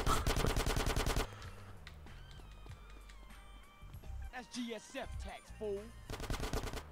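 Video game gunfire from GTA San Andreas opens with a dense rapid burst of automatic shots, then drops to quieter game sounds with scattered effects before another rapid volley at the end, all close and loud.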